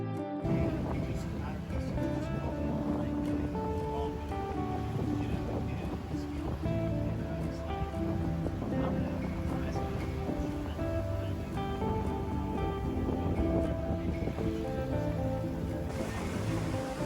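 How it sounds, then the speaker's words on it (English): A sailboat underway on a river at night: steady water wash and wind noise run throughout, with a constant rushing hum under the sound of the boat moving. "We're just doing a quick night sail."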